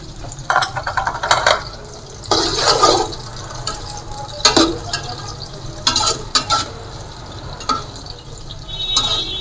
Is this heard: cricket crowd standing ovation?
no